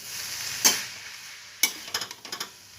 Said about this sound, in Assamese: সয়া চচটো দি আৰু মই অলপমান এনেকৈ লৰাই দিওঁ